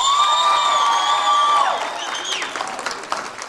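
A studio audience claps and cheers to vote for Ardak's pair in a contest show. Loud sustained applause is layered with high whoops and shouting voices, and it thins out toward the end.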